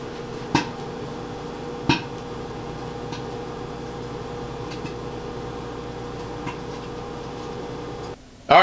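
Pasta sauce heating in a microwave under a Nordic Ware plate cover, giving two sharp isolated pops and a few faint ticks over the oven's steady hum, with the door opening at the end.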